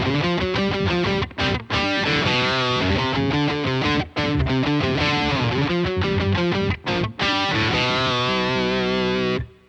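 Electric guitar played through a Boss OC-2 octave pedal with the one-octave level around noon and the second octave off, a thick distorted riff of sustained chords and runs broken by a few brief gaps.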